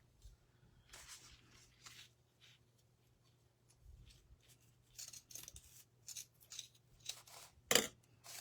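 Scissors snipping through a piece of burlap, faint close crisp cuts in irregular clusters over quiet room hum.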